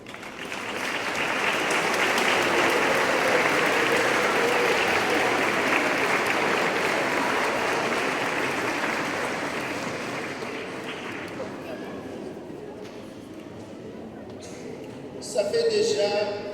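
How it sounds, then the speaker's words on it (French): A church congregation at a first communion service at Notre Dame de Stockay claps in loud, sustained applause. The applause slowly fades, and a voice briefly follows near the end. "Je vous demande d'applaudir pour les gens."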